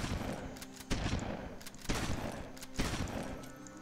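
Gunfire in the post-apocalyptic online game The Skies: three or four sharp, loud shots at roughly one-second intervals over a dense, noisy background.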